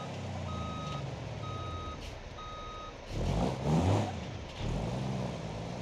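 A truck in BeamNG.drive gives three evenly spaced reversing beeps over a low idling engine, followed by a louder surge of engine revving.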